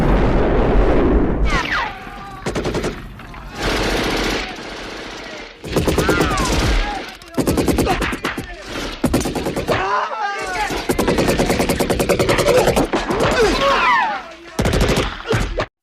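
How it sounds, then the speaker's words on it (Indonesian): Dense bursts of gunfire and rapid machine-gun volleys from an action film battle, loud and close, cut into clusters with brief gaps and mixed with booming impacts. "John membantai puluhan pasukan sendirian, yang sejago-jagonya si John dia tetap terkena tembakan juga."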